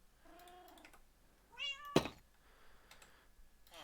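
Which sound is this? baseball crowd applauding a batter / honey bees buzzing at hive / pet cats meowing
pet cats meowing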